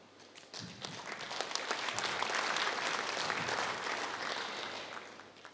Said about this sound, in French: merci pour cet applaudissement